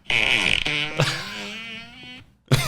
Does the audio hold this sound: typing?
no